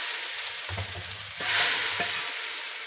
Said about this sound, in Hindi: अब मैं इस पर तड़का लगा दूँगी